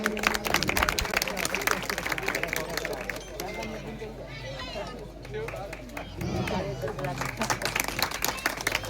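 Crowd applause welcomes a guest at a village felicitation ceremony in Kanzara, Gujarat, with bursts of clapping near the start and end around a speaking voice and background chatter.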